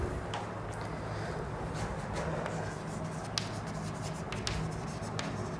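Chalk scratching a definition onto a classroom board, a run of short, faint scraping and tapping strokes over low room hum, with no talking.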